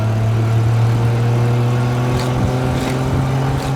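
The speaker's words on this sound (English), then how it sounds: "So this is a 6-cylinder inline engine, or inline 6-cylinder engine." A 1960s Triumph Vitesse 2-litre inline six-cylinder engine, fitted in a kit car, runs loud and close with a deep, steady drone. It swells slightly as it revs, and a few faint clicks sound over it.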